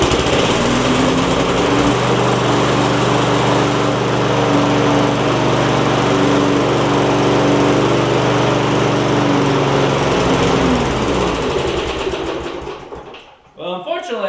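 An old top-pull Briggs & Stratton engine on a Craftsman push mower runs steadily and loudly up close in a garage, a continuous buzzing drone that then sputters and cuts out near the end.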